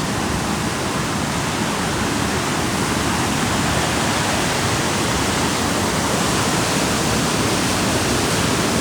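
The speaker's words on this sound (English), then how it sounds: "That's the waterfall there." Aira Force waterfall in the Lake District roars in a steady, loud, dense rush of falling water that stays constant throughout with no other sounds standing out.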